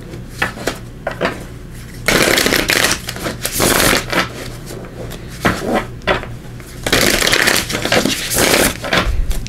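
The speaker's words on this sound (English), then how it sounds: "So let me just give these a little shuffle here." Wild Unknown Tarot cards are shuffled in two long loud bursts of riffling and slapping, with softer handling clicks between them and no talking.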